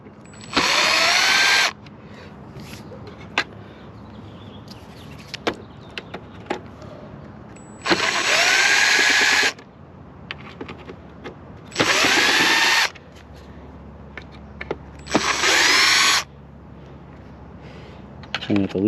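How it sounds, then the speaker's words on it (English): A cordless screw gun whirs in four separate bursts of a second or two each, removing dash bezel screws on a Cougar, close and loud, with clinks and handling noise between runs. "I'll go get my screw gun and we'll get those off."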